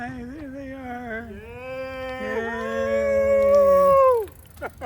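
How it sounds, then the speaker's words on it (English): A dog gives a long, wavering howl that rises in pitch and strength, sustained for several seconds before breaking off abruptly, with a few soft yips after; close and clear, no talking. "Oh, look at the doggy."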